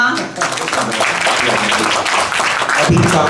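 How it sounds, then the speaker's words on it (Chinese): Steady applause rises to welcome Kaohsiung mayor Han Kuo-yu at a global city pageant exchange event, with an emcee talking over the clapping, which swells again near the end. "再热烈的掌声好吗"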